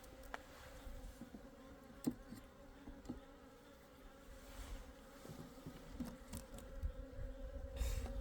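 Asian honeybees buzz in an opened hive, with Styrofoam nearby gnawed by the bees. A steady, close, fairly quiet drone of many wings continues throughout, with faint soft clicks and brief louder passes near the end.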